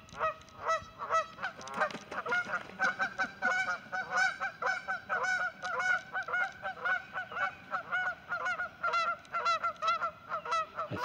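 Canada geese on a lake honk in a dense, overlapping chorus of repeated nasal calls, loud and near, with no talking.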